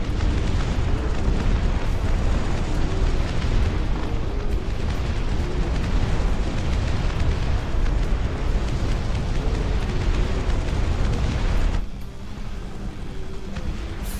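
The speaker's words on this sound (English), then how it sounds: "We've got some bombing strikes here to finalize this fight" Bombing-strike explosions in the Dust Front RTS video game form a dense, continuous roar of overlapping booms and rumble, loud throughout, easing slightly near the end, with no talk.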